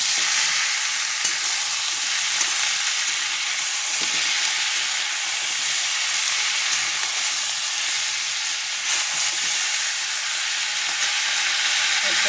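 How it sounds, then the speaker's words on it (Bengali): Chicken stirred and lightly fried in a pan, giving a dense, even hiss of hot oil that holds steady for the whole stretch, close and loud, with only faint occasional clicks of a utensil and no speech. "এগুলো একটু নেড়ে হালকা ভাজবো।"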